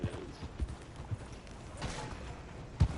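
Horse hooves in the video game Red Dead Redemption 2 clip-clop in an uneven rhythm, with a few louder thuds standing out over a soft, steady background hum.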